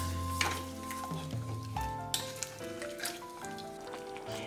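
Sugar being stirred into lime juice chutney in a pan, a soft scraping and sizzling texture with light clinks, faint and close, with no talk.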